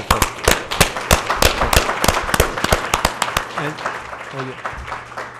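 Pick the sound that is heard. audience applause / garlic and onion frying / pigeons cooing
audience applause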